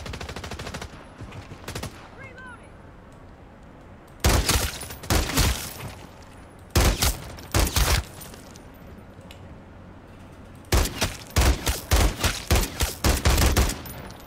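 Bursts of rapid automatic gunfire from Call of Duty: Modern Warfare 3 Zombies come in three loud volleys with quieter gaps of game ambience between them, plus a few scattered single shots at the start.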